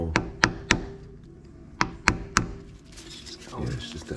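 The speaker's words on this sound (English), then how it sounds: "Yes, hammer the bottom in more." Sharp hammer blows drive a CV joint into a Nissan Patrol, in two close bursts of three loud, evenly spaced metallic knocks, followed by faint shuffling and a brief voice.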